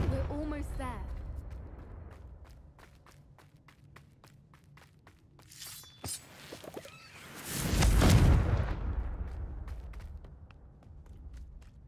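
Confringo fire spell explosions in Hogwarts Legacy go off amid footsteps and combat sounds, building to a loud, broad whooshing blast near the end that fades away, with a voice heard briefly at the start.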